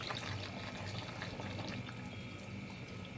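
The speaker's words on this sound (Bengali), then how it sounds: "এবারে আমি জল দিয়ে দেব।" Water pours into a pot of elaichi chicken with fried potatoes, a steady low splashing stream running evenly throughout with no talk.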